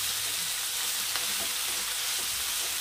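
Carrots and other vegetables sauté in a pan for rava upma, a soft continuous sizzle with a few faint scrapes and clinks of stirring, close and quiet.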